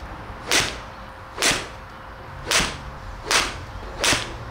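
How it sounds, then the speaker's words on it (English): Five sharp whooshing strikes at even intervals, each a TaylorMade P760 7-iron (33 degrees of loft) swinging through and hitting a golf ball outdoors, crisp and close with quiet gaps between. "I think it's time I went and whacked some golf balls."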